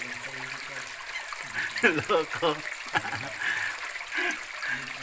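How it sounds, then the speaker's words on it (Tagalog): Water trickles and flows steadily in an underground river inside Guano Cave in Leyte, a continuous splashing murmur beneath people talking nearby. "Underground river, no?"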